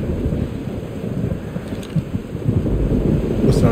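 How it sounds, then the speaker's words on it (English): A thunderstorm in the video game Life is Strange: Double Exposure brings steady heavy rain and gusting wind under low rolling thunder, loud and continuous throughout. "Weather's worse than I remember it. Storm followed me."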